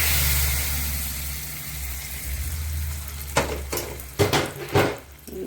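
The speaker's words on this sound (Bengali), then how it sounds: "এটা এখন এই ফোড়নটা খিচুড়ির ভিতরে দিয়ে দেবো" Hot spice tempering (phoron) poured into a pot of khichuri, a steady loud sizzle of frying that continues throughout, then a few sharp clattering bursts of utensils toward the end; no talking.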